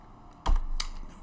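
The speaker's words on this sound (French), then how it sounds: "Je sélectionne la matrice des coefficients et je tape sur Entrée." Two quick, close keystrokes on a computer keyboard, the Enter key being pressed with a sharp click and a fainter second tap, alone in a quiet room.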